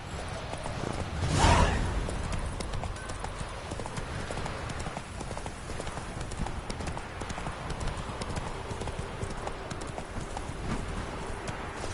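Hooves clop as the horse Roach trots in The Witcher 3, a steady, moderately close patter with one louder whoosh near the start, set in an outdoor game scene.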